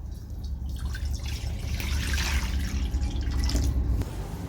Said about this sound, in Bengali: এবার আমি কড়াইয়ে দিয়ে দেবো জল।